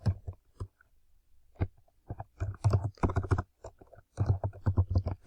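Code is typed on a computer keyboard in quick irregular bursts of close, crisp key clicks separated by short pauses, with no talking over the keystrokes.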